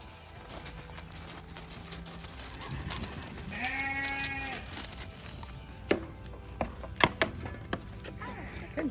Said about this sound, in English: She's a Nubian miniature dairy goat.